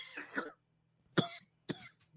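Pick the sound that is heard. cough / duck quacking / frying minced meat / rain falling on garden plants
cough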